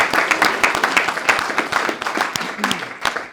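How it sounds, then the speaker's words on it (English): Audience applause at a boxing post-fight press conference, a burst of fairly close hand clapping with a few sharp individual claps, steady throughout and fading slightly at the end. "I think you deserve a round of applause for that"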